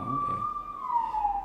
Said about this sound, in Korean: 사이렌이 지나가고 있네요.